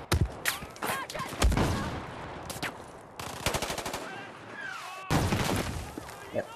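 Gunfire from the video game Battlefield 4 during a ship battle, with repeated bursts of automatic shots and single cracks coming in clusters, loud and close, mixed with game effects.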